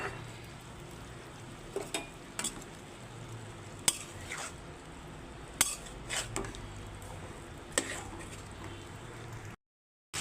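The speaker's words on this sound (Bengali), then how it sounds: "আমি এই চিংড়ি মাছ, ফুলকপি, আলু সব একসঙ্গে দিয়ে দিচ্ছি, দিয়ে একটু কষাতে থাকবো" Shrimp, cauliflower and potatoes stir-frying in a pan: a soft continuous sizzle broken by intermittent sharp scrapes and clinks of a metal spatula against the pan.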